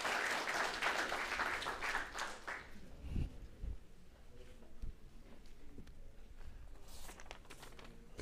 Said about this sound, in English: A big round of applause for Roger.